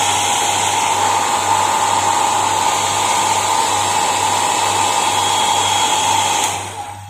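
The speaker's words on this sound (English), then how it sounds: "I use my hair dryer again" A hair dryer blows in a steady, loud, continuous whoosh with a constant motor whine, drying wet paper for a handmade flower craft, then cuts off near the end.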